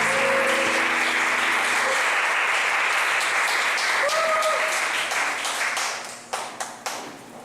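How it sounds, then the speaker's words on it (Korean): A church congregation at a Korean Sunday service applauds to welcome the pastor, loud sustained clapping from a crowd that fades into scattered final claps. "우리 목사님 나오실 때 크게 박수로 맞아주세요"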